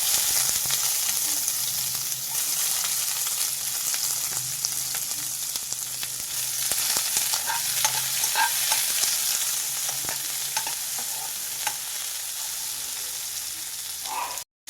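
Long-sliced onion with a little salt frying in hot oil in a pan, a loud continuous sizzle close by with occasional scrape and stir sounds, no talking.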